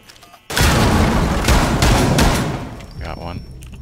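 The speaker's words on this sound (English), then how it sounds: "Yeah, they're shooting me." Loud bursts of gunfire in a shooter video game break out suddenly and keep going in rapid, dense volleys with heavy booms, then ease off toward the end, with a voice briefly audible over the shooting.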